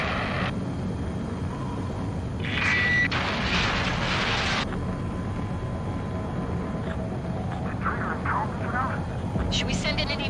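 Fighter jet attempting a landing in the video game Ace Combat 7, with a steady engine roar throughout, bursts of noisy rumble and beeping cockpit alerts layered on top, and scattered talk.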